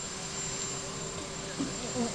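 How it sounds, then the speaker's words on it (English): An American Airlines passenger jet approaching produces a steady, distant roar beneath crowd noise, with people talking throughout. "We just caught sight of that American Airlines plane."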